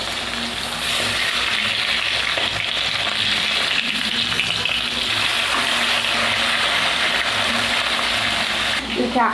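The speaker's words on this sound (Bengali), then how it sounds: "এবার মাছগুলো ভেজে নেব।" Bata fish rubbed with salt and turmeric frying in oil in a kadai, giving a steady, close, loud sizzle that holds evenly throughout before a brief change at the very end.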